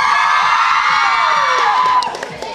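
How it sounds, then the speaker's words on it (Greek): A crowd cheers and whoops loudly in a Thessaloniki radio studio event, a dense sustained roar that drops off sharply near the end. "χειροκρότημα!"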